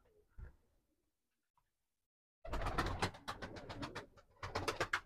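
Pigeons cooing close by in a coop, a soft burst early on then a dense run of repeated coos and wing-flutter after a short quiet gap.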